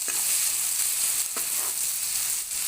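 Onions and a piece of cinnamon fry in oil in a pan, giving a steady, loud, close sizzle that continues without a break.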